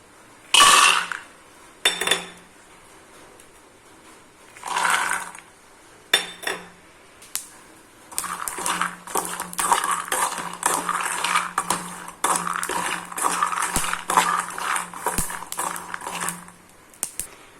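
Crushed peanuts are dry-roasted in a pan, with spaced metallic scrapes and rattles that turn into a long run of quick, busy stirring clatter near the mic, and no one talks.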